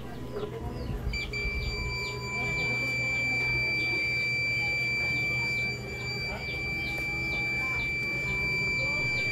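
A multimeter's steady high-pitched continuity beep sounds continuously while probing a capacitor on an Acer Aspire laptop board, over a low background hum, with faint clicking and shuffling underneath.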